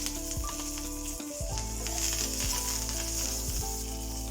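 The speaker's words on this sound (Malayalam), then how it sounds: "കടുക് പൊട്ടി അതിലേക്ക് ഉണക്കമുളകും കറിവേപ്പിലയും ഇട്ട് കൊടുക്കാം" Mustard seeds, dried chili and curry leaves sizzling in hot coconut oil for a bitter gourd milk curry, a steady close hiss with repeated metallic scrapes and taps of a spoon against the pan.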